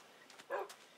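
A tamed wolf in the video game Minecraft gives a single soft, brief bark or yip, faint against a quiet background.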